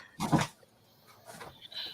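A dog gives a short burst of barking mixed with whimpering whines in a home kitchen, a loud yelp early on followed by quieter whimpers, fairly close.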